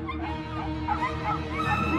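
Puppies in an animated Pixar film yip, whimper and bark in quick overlapping cries over a busy, continuous soundtrack.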